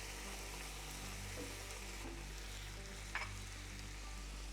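Steady sizzle and gentle stirring in a pot of Persian quince, prune and beef stew, with saffron and a little sugar just added; a constant low bubbling hiss with one brief scrape partway through.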